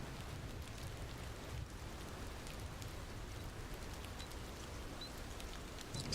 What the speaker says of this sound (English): Yeah, it's raining hard.